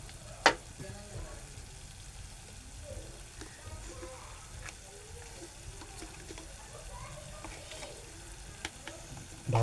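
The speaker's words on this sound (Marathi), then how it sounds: "परत परतून घेऊ." Chopped onion for a snake gourd vegetable dish being sautéed and stirred in a pan with salt, a soft steady sizzle broken by occasional sharp clicks and scrapes of the spatula, with a voice faintly present.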